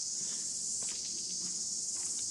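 A steady high-pitched cicada drone fills the air continuously in native forest at Blue Lake Tikitapu, New Zealand, with faint scattered rustles underneath and no voices.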